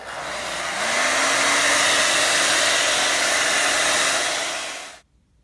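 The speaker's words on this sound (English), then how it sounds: "You can also do it the easy way by using a hair dryer." A hair dryer blows steadily on an M31 canvas bread bag being weathered and faded, a loud, close, continuous whoosh with a faint rising whine that cuts off abruptly when it is switched off, with no talking.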